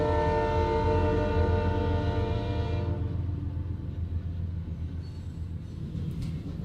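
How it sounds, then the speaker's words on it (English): A train passing with a loud, sustained horn blast for the first few seconds, then the rumble of the rail cars rolling by continues on its own. "Even here, the trains."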